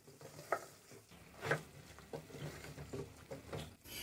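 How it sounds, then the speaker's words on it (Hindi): Beef karahi gosht with kasuri methi and green chillies, stirred and mixed in a sizzling pan: quiet frying crackle and sizzle under repeated scraping stirs and a few soft clanks. "अब अच्छे से हम इसको मिक्स करेंगे।"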